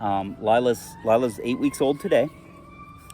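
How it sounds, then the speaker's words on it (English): A rising and falling siren wails faintly in the distance beneath a close voice speaking, continuing alone once the talking stops. "Sorry about the sirens."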